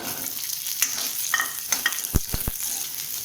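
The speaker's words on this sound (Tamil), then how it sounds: "மறுபடியும் 1 டீஸ்பூன் எண்ணெய் விட்டு ஆனியனை வதக்கி எடுத்துக்கலாம்." Onions sauté in a teaspoon of oil in a pan for urad dal chutney, making a continuous close sizzle broken by a few sharp knocks and scrapes of a spoon against the pan, with no one speaking.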